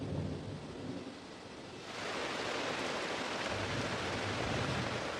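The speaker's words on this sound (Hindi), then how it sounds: "आखिरकार बरसात का मौसम आ गया है।" Rain pours steadily across the savanna as the wet season arrives, with a low thunder rumble and dense hiss of falling water swelling louder midway through.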